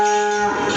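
A cow at a cattle farm shed lets out a single loud, close, drawn-out moo lasting under a second, with no voices around it.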